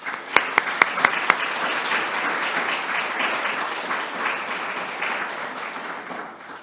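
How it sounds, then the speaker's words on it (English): A few sharp, loud individual claps ring out first, then an audience at an International Women's Day event at RICS joins in warm, steady applause that gradually tapers off. "join me in applauding the team for all the hard work they've been putting in thus far"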